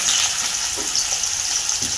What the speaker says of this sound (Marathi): कांदा चांगला भाजून घ्यायचा आहे।